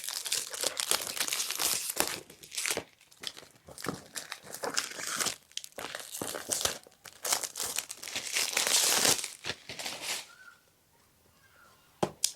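Product packaging is torn and opened close by, with repeated crinkling and crumpling bursts over about ten seconds. A short, quieter stretch of rustle follows.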